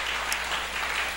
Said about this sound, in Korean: 큰 박수 해드리도록 하겠습니다